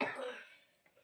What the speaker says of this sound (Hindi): सही में खांसी तो मैं हो रही